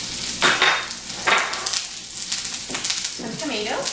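Shallots fry in a pan with a loud, close sizzle that swells in waves, broken by occasional stirring scrapes and pan clatter.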